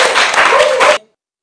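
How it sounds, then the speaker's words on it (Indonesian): A classroom of students clapping for a classmate, a brief burst of close, dense applause lasting about a second before cutting off abruptly. "Tepuk tangan dulu."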